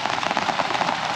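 Rain falling on a forest campsite in Kisatchie National Forest, a dense, steady patter of drops with scattered sharper taps, continuous and fairly close, with no voices.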